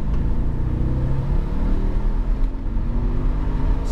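Audi S4 V8 convertible accelerating in second gear from a roundabout onto a dual carriageway, a steady rumbling engine drone with rising harmonics heard from inside the cabin, continuous and fairly loud with no talking.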